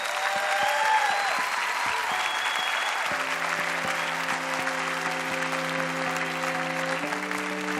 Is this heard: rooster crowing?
no